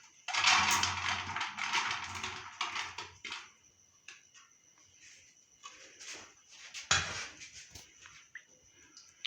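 Cooked rice spooned into a cooking pot to layer a Chinese-style chicken and vegetable biryani, making scraping and clattering metal sounds in bursts, loudest at the start and then scattered, close by with no talk.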